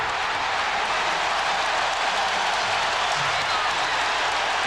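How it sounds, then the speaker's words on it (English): A basketball arena crowd at Game 7 of the Eastern Conference Finals between the Chicago Bulls and Indiana Pacers roars and applauds in a dense, sustained wall of cheering as a commentator speaks over it. "And that gets the crowd back into it."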